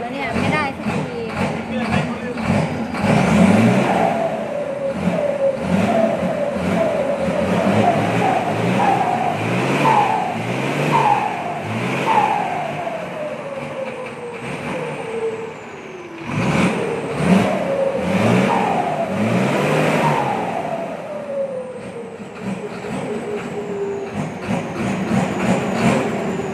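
A Mitsubishi Fuso truck with a 6M60 diesel engine that struggles to accelerate is revved repeatedly, rising and falling in pitch through a long series of close, loud bursts, with a person talking over it.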